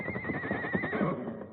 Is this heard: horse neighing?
yes